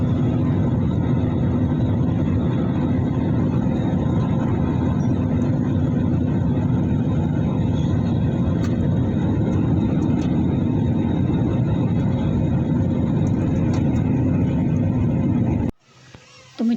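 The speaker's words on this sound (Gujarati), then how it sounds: "આપણું પ્લેન હવે લેન્ડિંગ માટે રેડી છે એટલે કે હવે ઉતરશે નીચે" A steady, loud airplane engine roar fills the cabin during landing for the whole clip, a dense continuous hum that drops away abruptly near the end.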